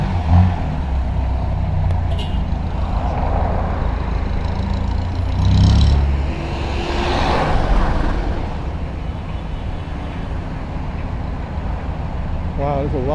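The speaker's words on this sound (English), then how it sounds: "Wow, there's a lot of traffic here." Heavy road traffic in Ortigas Center, Philippines, a dense, continuous roar of cars, trucks and buses heard from close by, with engine rumble swelling and easing and a brief brake hiss near the end.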